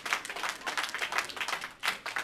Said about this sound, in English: Let's give Dr. Roosh a round of applause.